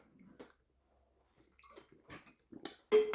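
Water poured or run into a glass indoors, with faint scattered handling noises building to a short, louder splash near the end, heard close by without any speech.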